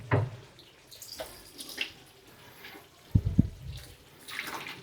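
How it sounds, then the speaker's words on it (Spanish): Pasta cooking water is poured off in a kitchen, heard as short splashing gushes and trickles into a sink. The pours come in separate bursts, with a stronger splash near the end, fairly faint and with no talking. "Entonces tiramos todo el agua."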